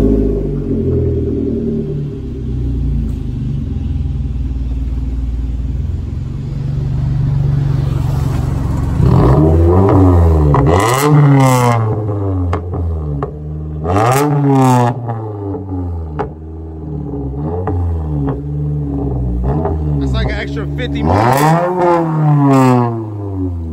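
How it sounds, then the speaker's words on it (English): A Toyota Camry engine turns over and starts with a low rumble, then revs up and down several times in sharp, rising surges. "Give him a startup and some rev."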